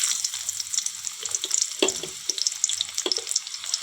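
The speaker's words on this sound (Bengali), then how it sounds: "প্রথমেই পেঁয়াজ কুচি দিয়ে দেবো বন্ধুরা।" Chopped onion dropped into hot oil in a kadai hisses and crackles, a bright, steady sizzle close by with a few sharper pops and no voices.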